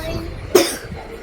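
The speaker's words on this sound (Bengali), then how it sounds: "কাশছে" A young girl gives a single short, sharp cough close by, a brief burst against a quiet room background.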